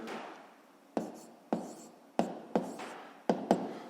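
Pen or pencil writing math on paper, a soft continuous scratching broken by about six sharp taps and strokes at uneven intervals, close and fairly quiet, with no talking.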